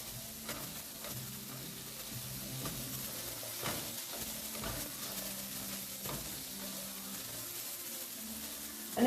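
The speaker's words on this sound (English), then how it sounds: "you're cooking your chickpeas on your pan for maybe about 3 minutes" Chickpeas cook in a pan, giving a soft, continuous sizzle broken by scraping stirs and light clinks, moderately close and fairly quiet throughout.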